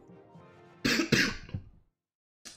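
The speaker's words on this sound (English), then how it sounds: "Excuse my coughing, I've been sick for a while." A few harsh, sharp coughs in quick succession, close and fairly loud, followed by a pause and the start of another cough.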